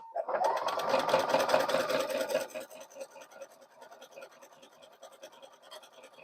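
A sewing machine stitches a seam on a jelly roll rug, running loud and steady at first and then settling into a lighter, softer whirring with faint rhythmic clicks, close by with no talking.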